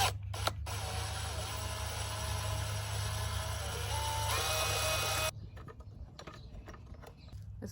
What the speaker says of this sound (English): There's a bolt on this side and one on this side, and I'm just going to remove those